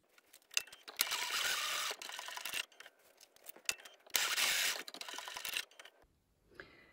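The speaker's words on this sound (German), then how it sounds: "Gehe damit unter die Nähmaschine und schließe 1 cm vom Rand entfernt jeweils hier" A sewing machine stitches closed the outer edges of a fabric pouch about 1 cm from the border, running in two steady whirring bursts with a brief pause between and a faint mechanical sound after.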